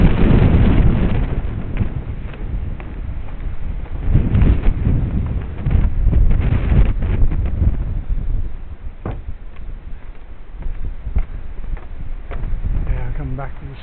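Steady wind buffeting the microphone along a coastal walk between Watsons Bay and Coogee, a dense continuous rumble with gusty swells throughout and no clear talk.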